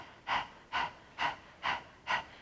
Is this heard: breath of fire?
yes